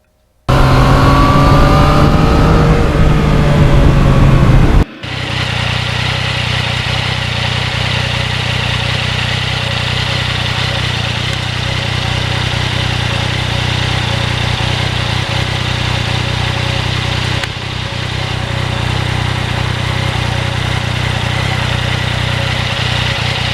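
A Yamaha MT-09 naked motorcycle rides on back roads, its engine holding a steady, loud drone with a smooth, continuous note close by after a brief louder burst at the start.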